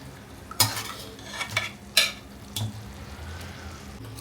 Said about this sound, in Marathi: आता मटन मस्त आपण मसाल्यामध्ये मिक्स करून घेऊया